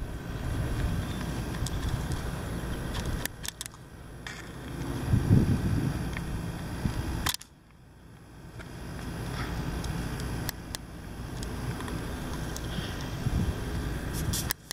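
Wind blowing steadily outdoors, a dense rushing roar buffeting the microphone, with a brief sudden lull midway before the gusts swell back to full strength.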